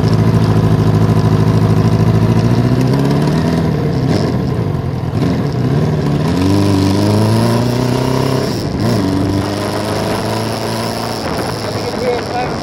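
A motorbike with a loud exhaust rumbles steadily close by while being ridden, its engine note rising and falling with throttle changes under constant road and wind noise.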